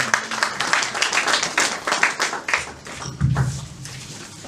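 A church gathering claps and cheers to welcome a speaker, irregular uneven clapping with shouted acclamations rising and falling over a few seconds.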